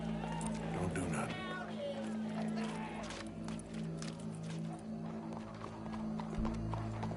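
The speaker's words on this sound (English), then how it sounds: "Go brush that horse, officer." Horse hooves clip-clopping at close range, with rhythmic knocks under voices talking and other animal and crowd noise around.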